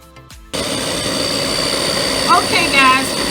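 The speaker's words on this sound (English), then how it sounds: "I am blending this up" Electric blender starts abruptly and runs steadily, blending chicken salad relish in a home kitchen, a loud continuous motor whir with a brief voice heard under it.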